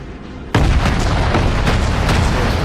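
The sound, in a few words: volley of naval gunfire in a video game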